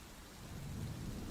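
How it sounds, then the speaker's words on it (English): Steady rain pours through a thunderstorm, a dense hiss with a low rumble swelling toward the end, with no talk. "There's lightning, yeah, there's a thunderstorm."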